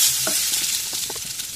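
Chinese potatoes (koorka) stir-frying in hot oil, a steady close sizzle with scraping stir strokes of a utensil throughout, no talking.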